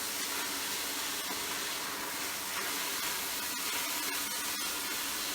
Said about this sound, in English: I'm just going to saute these right in the pan.